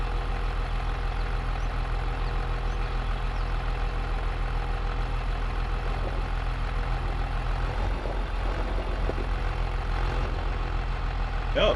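An older 275-horsepower tractor idles in a steady, heavy low drone that holds constant and fairly loud throughout, with faint rattles and clicks scattered over it.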